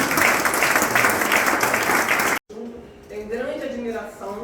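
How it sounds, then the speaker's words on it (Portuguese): Applause from an audience at a company anniversary celebration, loud and dense for about two seconds, then cutting off abruptly to quieter sound with a voice speaking. "Uma salva de palmas para aqui."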